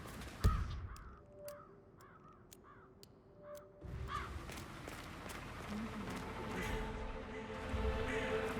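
Crows cawing in Hitman 3 on the Dartmoor estate, a run of harsh repeated caws at moderate distance, then a louder, busier stretch with footsteps and rustling ambience.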